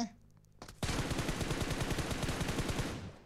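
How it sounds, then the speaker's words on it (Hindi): Rapid automatic gunfire in the PUBG video game: a short burst, then a sustained rattling volley of dense rhythmic shots, loud and close, with no talking. "पीछे से फायर किया उसने"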